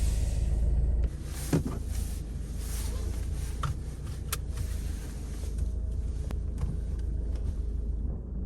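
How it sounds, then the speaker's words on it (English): A Ford Kuga mk2 runs while being driven to warm the engine, giving a steady low rumble from the cabin with a few small clicks and knocks on top. "I'm just going to drive it around for a bit, warm the engine up"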